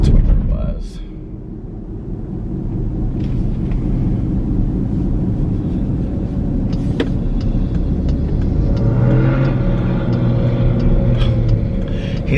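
Distant monster truck engine rumbling steadily at a monster truck rally, a continuous low roar with a brief rise near the end.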